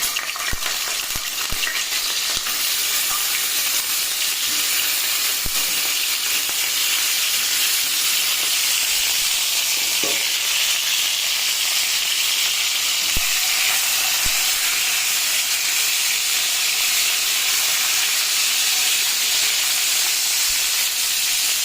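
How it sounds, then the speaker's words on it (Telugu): Washed brinjals frying in hot oil in a pan, giving a continuous loud hiss and sizzle throughout with occasional soft knocks, close up and with no talking. "ఈ బాగా కడిగిన వంకాయల్ని ఈ ఆయిల్లో వేసేద్దాం."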